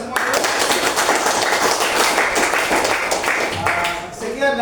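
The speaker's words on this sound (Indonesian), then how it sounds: "Tepuk tangan untuk kita semua." A burst of applause fills a classroom, many hands clapping densely and steadily, with some voices mixed in before it tapers at the end.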